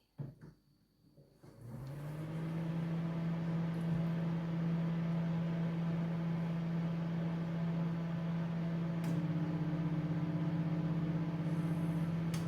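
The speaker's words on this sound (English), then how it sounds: "I'm just going to heat it up in the microwave." After a click, a microwave oven starts up and settles into a steady, low electrical hum that runs unbroken while heating.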